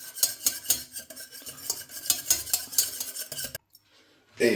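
Whisk beating 50 grams of butter into a hollandaise sauce, rapid rhythmic clinking strokes against the bowl close up, stopping abruptly into near silence before a brief final scrape.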